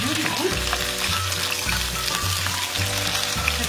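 Pork ribs searing in a hot pan give off a loud, steady sizzle. Bursts of fat spatter break through, and low thumps come from the pan, with no talking over it.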